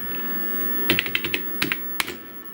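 Keys clatter on the keyboard of a Tandy 1000HX computer in a quick, uneven burst of about a dozen close presses over a steady background hum, with no voices.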